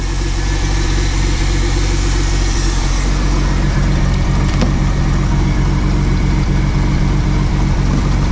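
A 1979 Pontiac Firebird engine running steadily at idle, loud and close with a constant low rumble throughout and no talking, the car smoking slightly.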